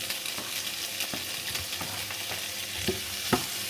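Cherry tomatoes cook in a hot pan with a steady close sizzle and crackle, and a spoon scrapes and stirs now and then, sending scattered sharp clicks and taps through the frying hiss, with no talking.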